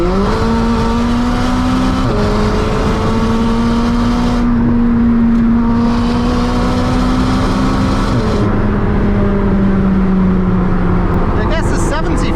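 Lamborghini Huracán track version with 600 horsepower accelerating flat out, a loud, steady engine drone with rising pitch and a gear shift, heard from inside the car with people talking over it.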